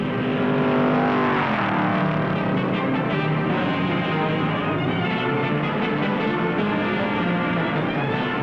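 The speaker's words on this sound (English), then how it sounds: "Petty in number 42 Oldsmobile, Beauchamp in number 73 Thunderbird in a showdown race, pasted together at 135 miles an hour" NASCAR stock cars, a number 42 Oldsmobile and a number 73 Thunderbird, racing side by side at about 135 mph in a showdown race; a steady, loud roar of engines fills the whole stretch without a break.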